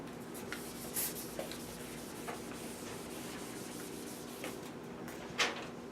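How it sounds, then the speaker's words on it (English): A board is erased during a math lecture, soft scratchy rubbing strokes with a few short squeaks and bumps over several seconds, close and quiet with no talking. "Let me erase this."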